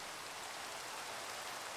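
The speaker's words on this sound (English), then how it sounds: "Of course, the rain." Steady, faint rain falls in the video game Minecraft, a soft even hiss with no individual drops standing out.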